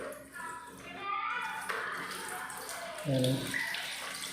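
Water running into a toilet bowl during a flush repair, a steady splashing trickle with a brief louder gush near the end, heard under someone talking.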